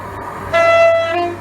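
An Avanti West Coast Class 221 Voyager train at Cheddington on the West Coast Main Line sounds its horn, a loud, sustained two-tone blast rising over low rail rumble, then fading.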